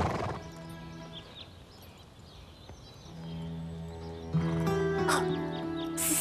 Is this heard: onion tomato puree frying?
no